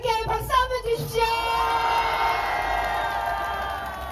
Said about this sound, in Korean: 우리 롯데백화점의 관계자들께 박수 한번 주십시오.